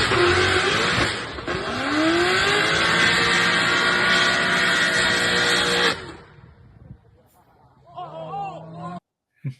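A car launching at a drag race event with its trailer brakes dragging, a loud engine roar with tire squeal building for about six seconds, then cutting off sharply, followed by quieter crowd voices and a brief exclamation near the end.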